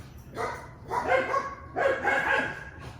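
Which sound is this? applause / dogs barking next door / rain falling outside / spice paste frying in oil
dogs barking next door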